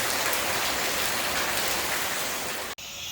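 Steady rain pours down on a house under renovation in Surin, Thailand, a dense, loud, even hiss that cuts off abruptly near the end.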